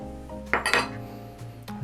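A utensil clinks against a bowl while yeast, sugar and warm plant milk are mixed for vegan brioche dough, with a few sharp close taps and scrapes separated by short pauses.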